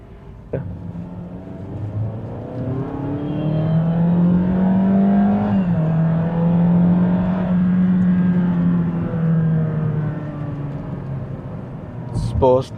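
A 2016 Honda Jade Hybrid's engine hums and rises in pitch as the car accelerates, holding a steady drone, then easing off near the end.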